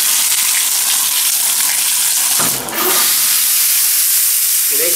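A hotel shower in Orlando, Florida running with a steady, loud hiss of spraying water close by, briefly interrupted by a knock or shift partway through.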